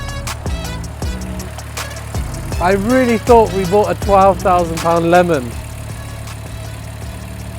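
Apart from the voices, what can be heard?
Audi RS3 engine idling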